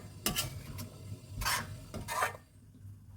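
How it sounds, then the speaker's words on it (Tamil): A few scraping strokes of a spoon through thick mint and coriander thuvayal paste in a pan, close and soft, over a faint background hum. "லைட்டாக கிண்டி விட்டுக்கோங்க."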